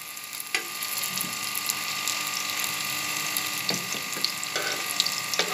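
Lachha kabab shallow fries in a pan of oil, a continuous close sizzle with small crackles and occasional clicks, no one speaking.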